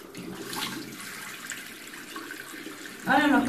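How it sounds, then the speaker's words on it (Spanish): Cool running water from a tap splashing softly while a face is rinsed, a faint steady wash with a brief louder gush near the end. "Yo siempre me lo enjuago con agua fresca, agua caliente no, ni templada tampoco"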